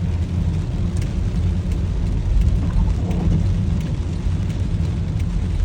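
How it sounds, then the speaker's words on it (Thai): Steady rain hisses continuously over an empty market in Sai Ngam, Kamphaeng Phet, Thailand, with a low rumble underneath and no voices. "ฝนตกฝนตก"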